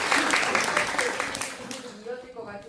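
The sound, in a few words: audience applause for director and actor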